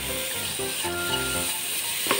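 Two medium-sized grated carrots sizzle steadily in a hot pan while a spoon stirs them, with a continuous close frying hiss and light scraping under it.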